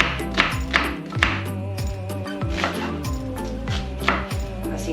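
Sweet fresh onion is cut with a knife on a board in a steady run of crisp taps and knocks, all under a droning musical backing.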